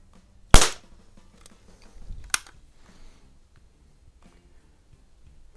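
A Crosman 760 pellet air rifle fires two sharp, close shots about two seconds apart, the first louder with a short trailing rattle, amid a faint quiet background.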